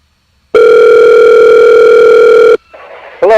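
A loud, steady telephone tone on a call-in line holds for about two seconds, then gives way to fainter line noise and a short burst of connecting tones.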